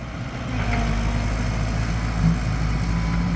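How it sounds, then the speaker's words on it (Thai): A 160-horsepower Nissan diesel engine idles nearby with a steady, low, rumbling drone that holds constant throughout. "ร้อยหกสิบแรงม้าครับ เป็นเครื่องยนต์นิสสันนะ นิสสันดีเซลครับ"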